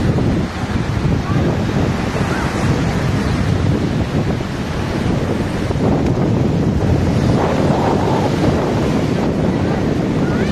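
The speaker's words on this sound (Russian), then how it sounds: "Очень сильные волны, купание запрещено, висят красные флаги." Strong sea waves and surf pound a beach in Anapa after a storm, a loud, continuous roar of breaking water with heavy wind buffeting the microphone throughout.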